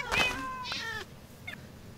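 Cats meow in the Minecraft video game, a couple of clear, tonal, drawn-out meows close together followed by a shorter, fainter one, with a steady low background hum.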